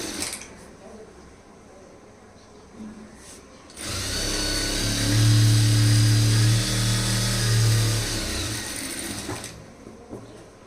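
A sewing machine runs a continuous stitching pass along a blouse lining, leaving a half-inch gap over the main cloth; the steady mechanical whir rises after a few seconds of quiet, holds, then stops.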